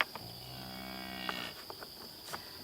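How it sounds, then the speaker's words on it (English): A cow lets out one long, steady moo at a distance and fairly faint, lasting about a second and a half over a quiet outdoor background with a few soft clicks and a faint insect whine. "The cow's coming over here."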